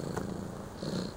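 A pet cat, about three months in its new home, purrs close up in a steady, continuous low rumble that swells slightly toward the end, with no voices over it.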